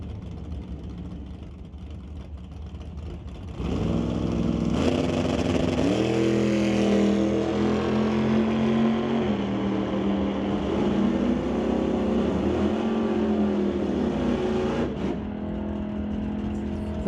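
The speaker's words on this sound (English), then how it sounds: "Next up, it's Ross Walker in a 66 Chevy 2." A 1966 Chevy II drag race car launches down the strip in a pro qualifying run, its loud engine roar rising abruptly and holding a strong, steady howl for over ten seconds before easing off, heard from a distance with no talk.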